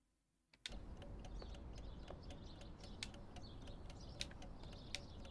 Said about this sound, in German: Ich höre leicht Vogelgezwitscher